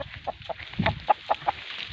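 About six short, evenly spaced clucks from a young, hand-tamed rooster of a native Tamil fighting breed, close and fairly loud over a faint background hiss.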